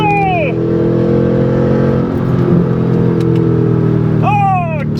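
Loud, sustained revving from a Mercedes C55 AMG engine, with brief rising whoops of throttle at the start and near the end around a steady droning middle.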